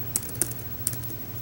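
Three sharp, distinct keystrokes on a computer keyboard during a Modern Magic: The Gathering match, spaced irregularly over a low steady background hum.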